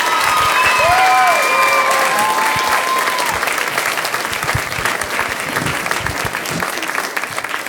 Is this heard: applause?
yes